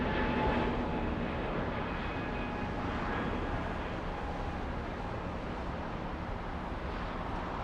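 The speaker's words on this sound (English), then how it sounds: "this is why LAX does not like having the A380s taking off" An Airbus A380 jet taking off at LAX roars loudly and steadily throughout, a broad continuous engine rumble that stays strong from start to finish with no voices.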